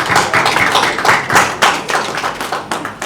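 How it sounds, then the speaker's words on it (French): Applause from an audience of journalists and guests at a press conference welcoming Mouska: a dense, loud burst of many hands clapping continuously, close and without talk. "je vous prie d'applaudir et d'accueillir bien fort Mouska"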